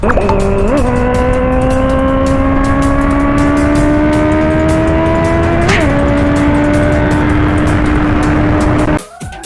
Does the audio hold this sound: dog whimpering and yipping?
no